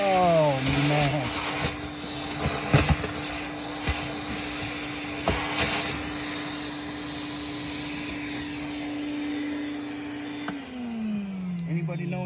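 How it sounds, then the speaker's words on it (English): A shop vac runs steadily, sucking up thick mud from a Lexus that was buried in a mud hole. The drone is loud and sustained for most of the clip, with intermittent slurping surges, and its pitch drops as the motor winds down near the end. "I'm doing the shop vac"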